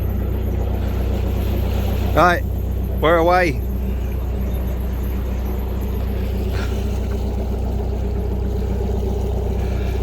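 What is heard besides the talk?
narrowboat diesel engine running on Llangollen Canal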